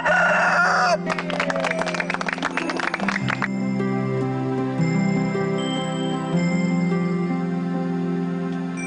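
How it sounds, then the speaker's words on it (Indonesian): Chickens cluck and a rooster crows in a legend drama set in a rural village, layered under a busy background of sustained tones and music that carries on after the crowing fades. "Coba ayammu itu suruh berkokok kembali."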